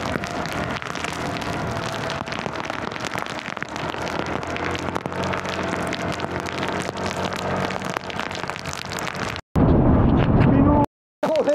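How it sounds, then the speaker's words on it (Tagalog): Heavy rain pounding hard and continuously on a surface nearby, loud and dense, breaking off abruptly near the end into louder rushing noise with short silent gaps. "Ang lakas ng ulan!"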